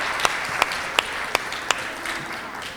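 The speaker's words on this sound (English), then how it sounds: "Everyone, give a round of applause to Dr. Tapan Bhattacharya." Audience applause at a veena concert, a fairly quiet and sustained wash of clapping with a few sharp, distinct claps standing out at regular intervals and no talk.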